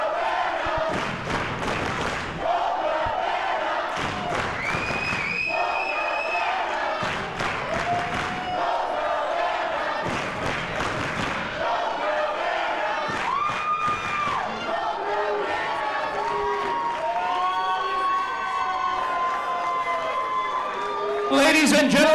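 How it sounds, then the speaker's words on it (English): A large wrestling crowd roars and cheers for new NWA World Heavyweight Champion Colt Cabana, loud and sustained with surging chants and shouts filling the arena throughout. "Listen to this crowd."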